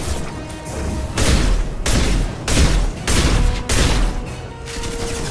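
Incendiary gunfire in Mass Effect 2 comes as a string of loud, heavy bursts, five or six booming volleys separated by short gaps, close and punchy.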